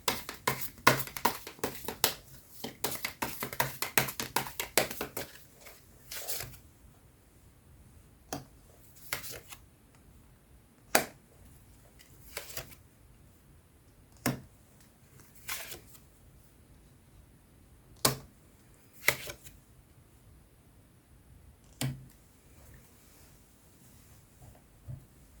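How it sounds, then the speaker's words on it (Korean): Message cards being shuffled and drawn, a rapid flurry of papery riffling taps for the first few seconds, then single sharp card snaps every couple of seconds, close and quiet, with no talk. "주별로 자세한 조언의 메시지 카드 뽑아보도록 할게요"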